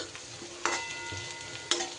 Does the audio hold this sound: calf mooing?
no